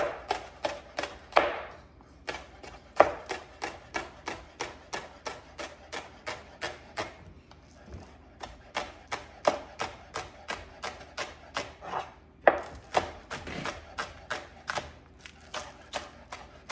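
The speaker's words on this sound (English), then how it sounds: "So just 1 green onion. I'm just gonna give it a nice fine slice here." A single green onion is finely sliced with a knife on a cutting board, a long run of quick, evenly spaced crisp taps with a few short pauses, close and clear with no talking.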